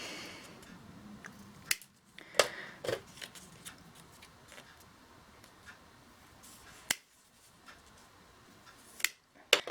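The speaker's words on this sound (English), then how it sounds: "just gonna trim a little bit again" Paper being trimmed for a 6x6 mini album, heard as a handful of sharp, isolated cutting snips and clicks at close range in a quiet room.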